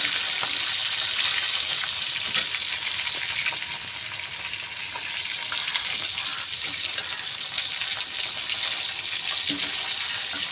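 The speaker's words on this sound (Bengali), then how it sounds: "উল্টে পাল্টে ভেজে নিচ্ছি" Koi fish fry in hot oil in a pan while being turned over, a dense continuous sizzle with small scraping stirs, close and steady throughout, no talk.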